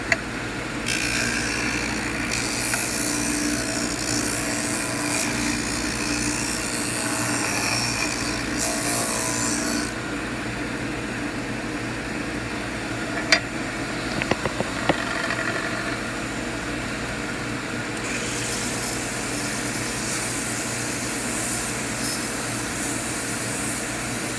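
A Wen 4-inch by 36-inch belt and disc sander with a cast iron base sands wood. Its motor drones steadily and close for the whole stretch, with the grinding friction changing as the wood is pressed on and moved, and a few sharp knocks near the middle.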